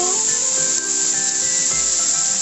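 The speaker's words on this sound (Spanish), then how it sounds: "Y ahora vamos a añadirle el arroz. Vamos a echar un puñadito" A handful of rice drops into a pan with meat, and a steady sizzle and frying hiss fills the moment with a soft gritty rustle of grains close by.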